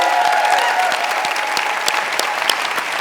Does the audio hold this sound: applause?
yes